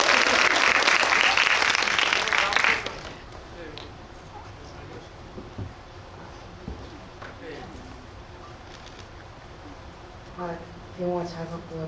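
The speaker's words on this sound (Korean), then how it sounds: "박수 좀 부탁드립니다." An audience in a Megabox COEX cinema hall bursts into loud applause during a post-screening Q&A. The applause lasts about three seconds and then stops abruptly, leaving quiet room sounds with faint shuffling and brief murmurs.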